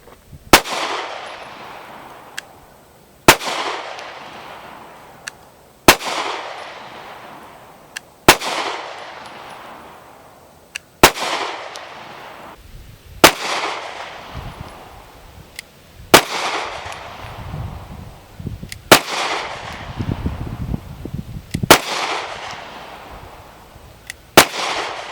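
Two 9mm pistols, a Taurus G3 and a Canik TP9SF, fire single sharp shots at an outdoor range, about ten reports spaced roughly every two to three seconds, each loud and close with a fading echo.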